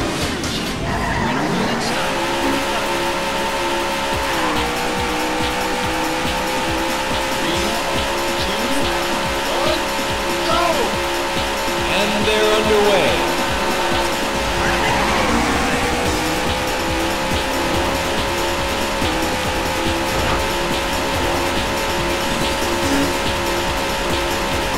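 Race car engine from the Daytona USA arcade video game on the Three Seven Speedway, a loud sustained high-revving whine with gear-shift drops and tire squeals, close and continuous.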